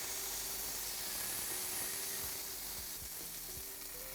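Arepas fry on a Big Green Egg ceramic grill with a soft, continuous sizzle and hiss, fairly quiet and close, with a few faint scrapes and taps partway through.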